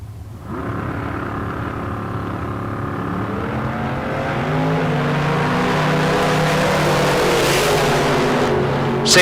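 Two dragsters launch side by side down a drag strip at a Southwest Showdown bracket race, a loud sustained engine roar that builds and holds steady, with a brief sharper burst at the end.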